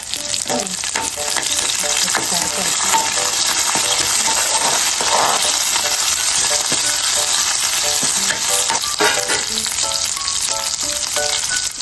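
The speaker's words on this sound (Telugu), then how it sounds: "స్టవ్ వెలిగించి పోపులో ఉల్లిపాయ ఎండుమిరపకాయ కరివేపాకు వెల్లుల్లి వేసుకోవాలి" Onion, dried chilli, curry leaves and garlic sizzle loudly in hot tempering oil, a dense continuous crackle with bright spits and pops throughout, close and unbroken.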